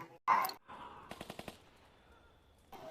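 Gunfire in a vampire film scene: a sharp loud blast followed by a quick rapid burst of about five shots, with quieter rumbling between and a faint further bang at the end.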